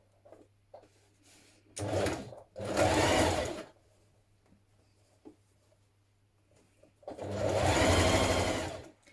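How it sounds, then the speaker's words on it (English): A sewing machine stitches close to the edge of an elastic casing on cozy trousers in three runs: two short bursts close together, then a longer steady run after a quiet pause with a faint low hum. "I'm going to stitch close to the edge of that to form the casing, but not on it."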